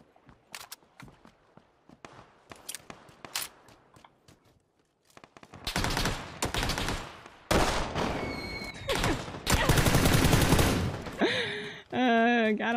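Video game gunfire erupts in loud, dense bursts of automatic shots after a quieter stretch of footsteps and scattered clicks, with game effects and a rising tone near the end; a voice talks now and then.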